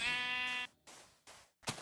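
A sheep in a blocky video game bleats when punched, with one harsh drawn-out bleat followed by short clicky hit and pickup sounds, clear and fairly quiet.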